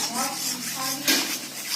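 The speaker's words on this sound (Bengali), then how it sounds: "এটাকে আমি একটা কড়াই গরম করে কড়াইয়ের মধ্যে দিয়ে দিচ্ছি এটা সবসময় নাড়তে হবে নাহলে তলায় লেগে যাবে" A spatula scrapes and stirs ripe mango pulp in a hot kadai, making continuous close metallic scraping and clinking against the pan without pause.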